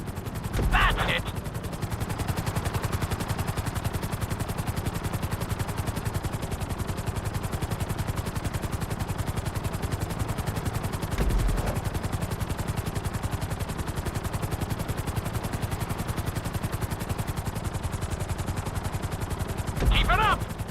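A helicopter in GTA V flies a marked course, its continuous chopping rotor thrum and engine drone steady and close throughout, with a few brief sharp knocks near the start, middle and end.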